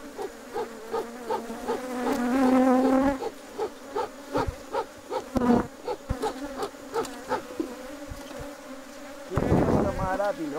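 Honeybees swarming around a hive during a colony split, a dense close buzzing drone with pulsing wingbeat hum and individual bees zipping past the microphone.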